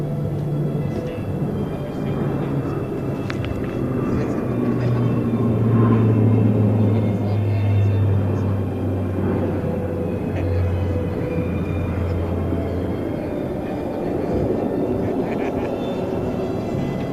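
A Spartan military transport aircraft flies past at an air show during NATO Days and Czech Air Force Days, giving a heavy sustained rumble with a droning engine tone that swells and then fades.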